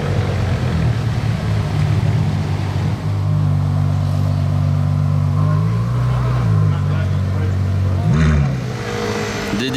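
A green Jaguar F-Type V8 rumbles loudly and close by, its deep engine drone holding steady and then shifting pitch near the end, while people talk over it.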